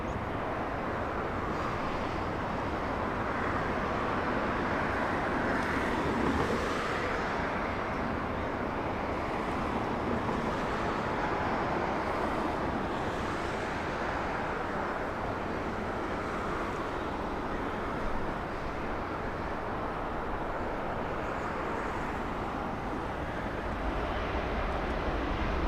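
A Delta Airbus A321 arriving at LAX from Seattle, heard as a steady, unbroken jet roar that holds at an even loudness throughout, with no voices.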